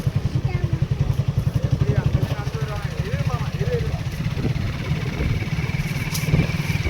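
Motorcycle engine revving repeatedly in rough pulses at a temple festival, loud and close, with voices talking over it.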